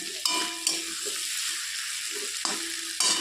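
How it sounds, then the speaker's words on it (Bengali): Flat beans fry in mustard oil in a pan as they are stirred, with a continuous sizzle and a few sharp scrapes and knocks of the utensil against the pan. "তো ঢাকনা খুলে আবারও নেড়ে চেড়ে দিচ্ছি। একটু লাল লাল করে ভাজতে হবে।"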